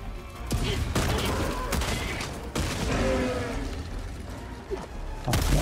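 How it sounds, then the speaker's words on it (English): A grenade explosion and bursts of gunfire in the Helldivers 2 video game, with loud repeated booms and shots over a dense, chaotic battle din. "Throwing grenade!"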